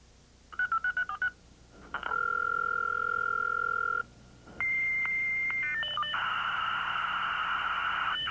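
A computer dials a telephone line: a quick burst of touch-tone beeps, then a steady dial tone, followed by more rapid DTMF tones and a continuous buzzy line signal, with no voices.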